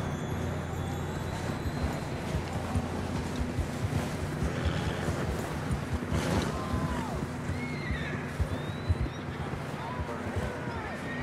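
A horse in the video game Red Dead Redemption 2 whinnies amid blowing wind and a low steady rumble, with a few snorts and hoof sounds, while people talk over it.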